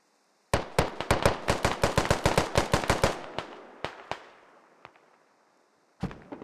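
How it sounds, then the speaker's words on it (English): Rapid gunfire from an online shooter match: a fast run of sharp, evenly spaced shots that slows into a few scattered reports with a fading tail, then a single late shot, loud and with no talking. "Lots of shots exchanged. I can hear them on the other side of the map"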